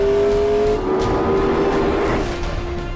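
A McLaren engine revs hard under full throttle in wet weather, a loud, steady roar with a strong rising tone that sounds close and continues unbroken.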